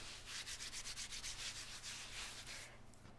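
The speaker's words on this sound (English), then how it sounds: "Brush off any of that excess flour." Excess flour is brushed off puff pastry wrapped around a turkey Wellington: a steady run of soft, close bristle strokes rubbing across the dough surface, continuous and fairly even, with no talking.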